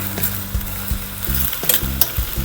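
Napa cabbage is stir-fried in a hot pan, with a steady sizzle broken by repeated scraping stirs and tossing thumps, close and fairly loud.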